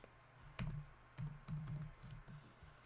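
Typing on a computer keyboard at a Java programming desk, a quick irregular series of close, crisp key clicks and thumps, alone with no speech.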